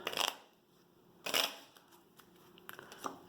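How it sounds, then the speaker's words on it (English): Two quick riffling bursts of board game encounter cards being shuffled, close up, separated by a pause, followed by a few lighter clicks and taps. "give that a couple more shuffles"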